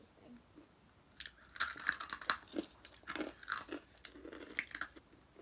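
Crunchy biscuits are bitten and chewed close to the mic, giving quiet, irregular crisp crunches in a steady run.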